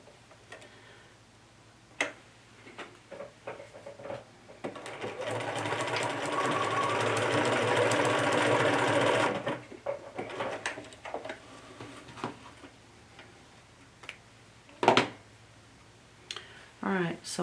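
A sewing machine stitches a fabric Laura Ashley bag in a steady, loud whirring run of about five seconds, between scattered handling clicks, taps and brief pauses.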